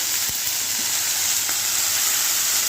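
Garlic and palak spinach sizzle and fry steadily in a hot pan, a dense continuous crackle at close range with no talking.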